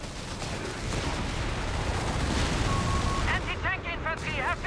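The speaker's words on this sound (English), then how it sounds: "Bombing runs." Artillery bombardment during a 4v4 Company of Heroes 3 battle with many howitzers, a continuous loud rumble of shelling and blasts, ending with a burst of short chirping whistles.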